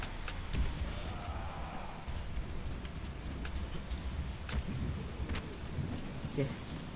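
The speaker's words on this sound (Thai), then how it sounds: "ฉากเป็นใจมากเลยครับฝนตก" Rain and thunder in the zombie video game Dying Light: a steady rain hiss with low rumbling thunder and scattered sharp crackles, fairly quiet, heard on its own with no speech.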